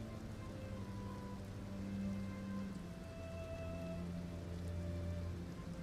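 Rain falling in the video game Elden Ring, a steady soft hiss of drops on surfaces running throughout at low volume beneath a sustained tonal hum, with no talk.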